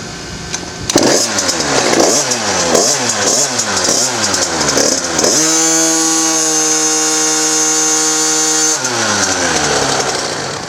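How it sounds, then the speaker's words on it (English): A motorcycle engine with a triple-disc clutch revs up hard for a stall-speed test, climbing to a loud sustained high-pitched roar for a few seconds, then drops back down as the throttle is released. "You rev up the engine fully for 1 second and then let off."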